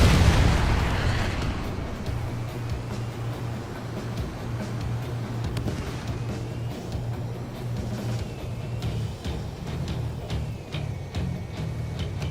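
Missiles launching and exploding during air combat in the video game Ace Combat 7, heard as loud rumbling booms and bursts over a steady low jet drone, strongest at the start and continuing throughout.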